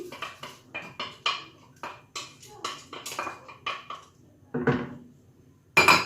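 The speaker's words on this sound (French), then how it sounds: "on va rajouter les lentilles ici" Dry lentils and other ingredients go into a pot for Moroccan harira soup, giving a string of close, sharp clinks and rattles of utensils against cookware in an irregular rhythm, with a brief voice partway through.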